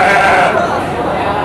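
Garut sheep of the Priangan type bleat at a sheep market in Tanjungsari, Sumedang, a loud close call that fades slightly, heard over market chatter.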